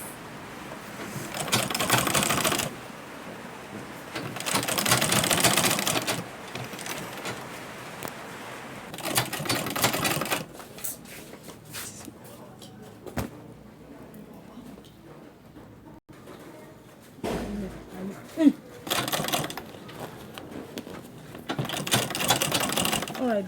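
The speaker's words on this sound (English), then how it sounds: "You just follow this stitch, this, you just sew it round." A sewing machine stitches around the edge of a big lunch bag in bursts of rapid mechanical clatter, pausing between runs, with quieter handling noises in the gaps.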